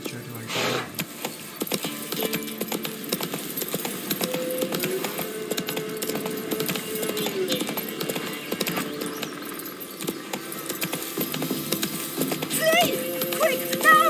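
A horse's hoofbeats in The Witcher 3 drum along steadily at moderate volume, mixed with game music and occasional voices.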